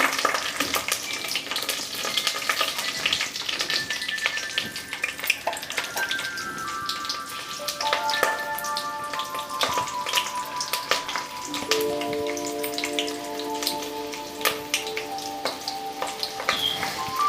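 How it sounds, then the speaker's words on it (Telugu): Three green chillies fry in tempering oil for a raw mango dal broth, with a continuous crackling sizzle, scattered pops and stirring clatter, while faint tonal beeps or whistles sound in the background. "ఇప్పుడు మనం పచ్చిమిర్చి వేస్తున్నా అండి."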